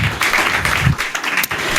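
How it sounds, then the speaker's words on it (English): A lodge audience breaks into steady applause, a dense, continuous wash of clapping that stays loud throughout with no speech over it. "A round of applause for these great folks."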